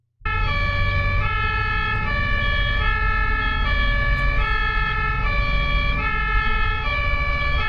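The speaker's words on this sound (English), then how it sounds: "How did these people know an ambulance is coming?" A German ambulance siren blares loud and steady, its two-tone wail alternating evenly over traffic rumble on the road, starting abruptly and continuing without pause.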